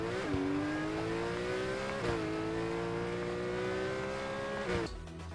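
A Fortnite car engine revs steadily, pitch climbing in three gear-shift cycles before dropping off at the end; no talking.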